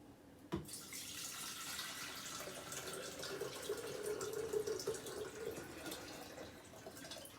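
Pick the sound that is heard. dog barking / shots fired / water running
water running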